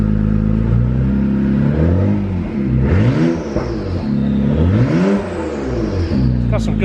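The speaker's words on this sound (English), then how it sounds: "It's got some good turbo noise." A turbocharged V6 engine with a titanium exhaust revs up twice in quick sweeping blips, each followed by a whooshing turbo spool and hiss as the revs fall, close and loud over a steady idle.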